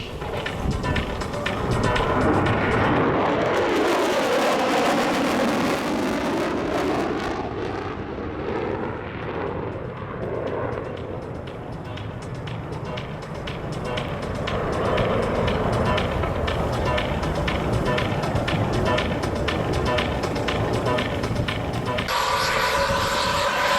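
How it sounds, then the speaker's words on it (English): A B-1B Lancer bomber makes a fast low pass at about 500 knots over an air show field, a loud sustained jet roar that swells and sweeps past close overhead, with continuous engine rumble throughout. "going very quick across the field, the B-1B Lancer. This is its second last pass at 500 knots."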